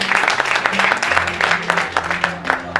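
Audience clapping at a Sai devotees' gathering in Shirdi, a brief burst of dense, steady applause from a seated crowd filling the short moment, moderately loud.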